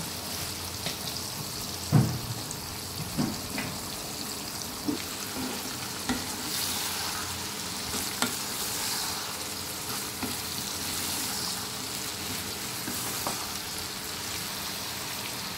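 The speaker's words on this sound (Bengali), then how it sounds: "এখন এর মধ্যে আমি আলু আর ফুলগুলো দিয়ে দিচ্ছি, যুক্তি ফুলগুলো।" Potatoes and jukti flowers fry in a pan for a Bengali-style bhaja, giving a steady close sizzle throughout, broken by a few soft stirring clinks and scrapes, with no voices.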